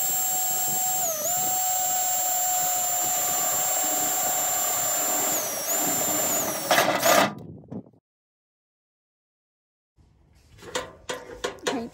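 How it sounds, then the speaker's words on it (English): A power drill bores holes into a garden container, a steady loud whine held for several seconds, then it stops, followed by silence and a few clattering handling noises. "my husband is going to drill some in for me"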